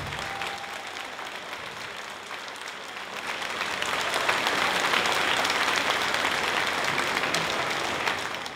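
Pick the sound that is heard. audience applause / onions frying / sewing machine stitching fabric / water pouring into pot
audience applause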